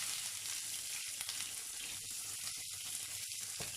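Chopped onions fry with cumin seeds and bay leaf in a pan, a dense, continuous close sizzle with small crackles and pops throughout.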